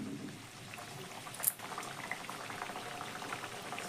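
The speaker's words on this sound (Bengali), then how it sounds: "তেলটা এখন গরম হয়ে গেছে, এবার আমি এখানে এক একটা করে পুরি দিয়ে ভেজে নেব।" Spiced whole-wheat puris fry in hot oil with a soft, continuous bubbling sizzle, quiet and close, with one sharper crackling spurt partway through.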